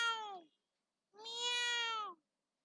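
A human voice imitates a cat meowing, recorded in Scratch: two clear, close meows, a short one and then a longer drawn-out one after a brief pause.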